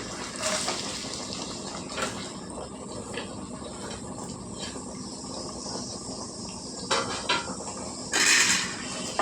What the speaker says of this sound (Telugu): నూనె వేడెక్కింది సన్నగా కోసం ఉల్లిపాయలు వేసుకుంటున్నాను